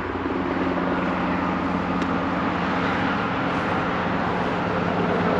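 A military helicopter passes over a roadside cleanup near a highway, a loud continuous rotor and engine drone that holds steady throughout, blended with broad traffic rumble and no speech.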